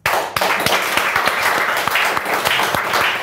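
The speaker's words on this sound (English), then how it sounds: "I'm clapping." An audience claps steadily and loudly throughout, with a dense, continuous patter of hands after a brief quiet start, at what seems a motivational speaking event.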